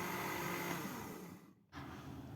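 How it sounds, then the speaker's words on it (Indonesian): A kitchen blender purees cut pandan leaves with about 300 ml of water, a steady whirring grind that briefly cuts out and starts again, heard alone at moderate volume. "Kemudian kita blender sampai halus."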